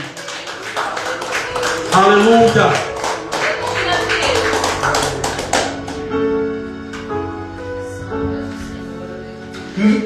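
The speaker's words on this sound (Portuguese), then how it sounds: "Aplaude, glorifique se você crê." A church congregation at a Pentecostal-style service claps and cheers in a dense burst for several seconds, then it fades as a voice and music carry on.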